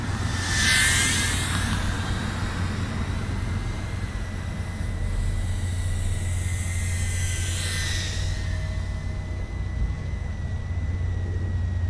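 Scorpion 80HD cinewhoop FPV drone on a 3S battery flying steadily, a loud continuous propeller whine and buzz with rising and falling pitch sweeps as it passes, no talking.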